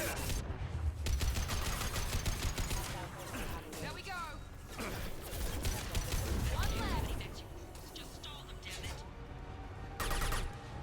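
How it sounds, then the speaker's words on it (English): Dense, continuous gunfire and explosions from Mass Effect 2 Legendary Edition combat against mechs fill the clip, with loud overlapping bursts while a player talks throughout. "I shoot at mechs, they explode if I'm right next to them"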